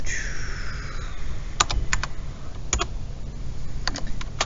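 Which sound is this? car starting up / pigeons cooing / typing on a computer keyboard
typing on a computer keyboard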